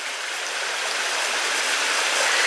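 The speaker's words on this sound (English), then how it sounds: "I'm so happy to see the water flowing like this." East Twin Brook, a summer stream in the Cheddar countryside, flows steadily with broadband rushing water, close and continuous, with no voices over it.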